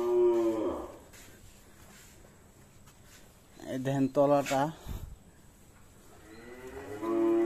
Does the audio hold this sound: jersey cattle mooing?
yes